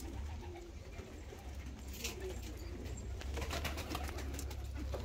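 Pigeons of show breeds such as Maltazar, Japanese, Könenberg, Helmit and Hünkari coo softly in a loft over a steady low hum, with a few scattered clicks and rustles.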